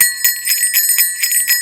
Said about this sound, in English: I think it's time to bring out the Jiggle Bell